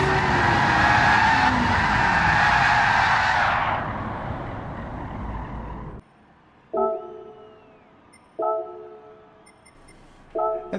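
Tires of a 1966 Shelby Cobra in Gran Turismo 7 skid under engine roar, a long loud squeal that fades out, followed after a cut by three short sharp skid bursts over quiet.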